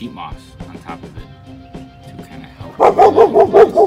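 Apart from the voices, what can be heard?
dog barking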